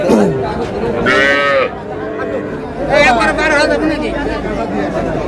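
Crossbred heifer calves moo loudly at a busy livestock market, with two drawn-out calls standing out above constant crowd chatter and bargaining voices.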